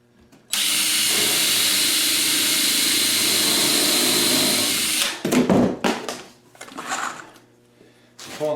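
A power drill drives screws into a 30-inch upper kitchen cabinet case, with a loud, close, continuous whir for several seconds followed by short stop-start bursts.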